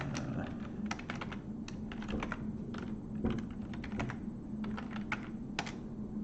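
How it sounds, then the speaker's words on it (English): Steady typing on a computer keyboard, a fast run of close, crisp key clicks with uneven rhythm over a low background hum, no voices. "today, unfortunately, I'm typing a little slower."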